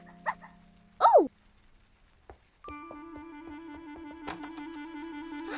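A cartoon dog gives a single short rising-and-falling whimper, close and clear, followed by a steady sustained tone that carries on to the end.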